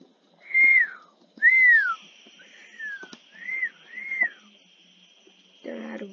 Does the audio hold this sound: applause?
no